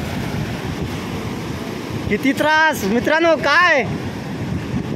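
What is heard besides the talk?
sea waves surging into village houses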